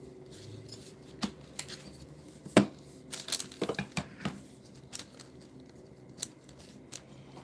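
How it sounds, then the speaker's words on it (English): Edges of a polymer clay cane are trimmed with a cutting tool, giving a run of sharp, quiet snips and clicks at irregular intervals, close up, with one stronger cut early on, in a quiet room. "I'm going to reduce it a little longer and trim the edges"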